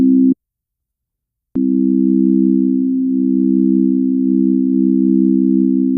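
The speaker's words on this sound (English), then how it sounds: "So then you have the amplitude modulation" Synthesizer oscillators under amplitude modulation: a short steady buzzy tone, a second of silence, then the tone returns and holds steady and loud, with no voices.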